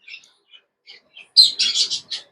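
Buff and heavy variegated green Gloster canaries chirp in a quiet room, a few faint tweets at first, then a louder, closer run of bright chirps.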